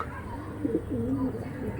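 Old-line pigeons with mongoose-coloured heads coo softly in a low, rolling burst midway through, close by with faint background noise.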